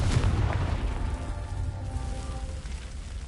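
The Confringo explosive spell detonates in Hogwarts Legacy, a loud booming blast with a rumbling low roar that slowly fades over a few seconds.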